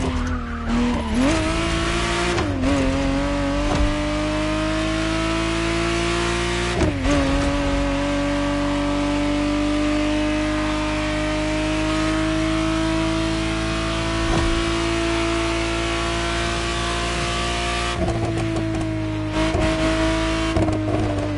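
A 1991 Ferrari Testarossa 512 in The Crew Motorfest drives with a steady, loud engine drone that holds its pitch for long stretches, with brief shifts and tire noise, and no talking.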